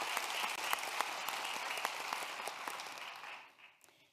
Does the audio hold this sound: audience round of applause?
yes